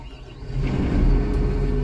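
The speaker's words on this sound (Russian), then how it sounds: "здесь мы произвели запуск двигателя" Diesel engine of a SANY SW955K1 wheel loader catching on the starter and settling into a deep, close, steady rumbling idle, with no voices.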